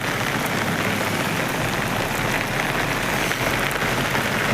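Heavy monsoon rain pours steadily near the NH 66 overpass at Randathani in Malappuram, a dense, unbroken roar of drops on surfaces that stays loud and even throughout with no voices.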